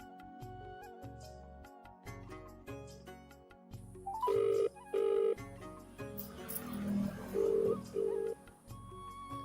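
A telephone rings in a Hindi family drama scene, several loud electronic ring bursts in pairs over background music, beginning about four seconds in.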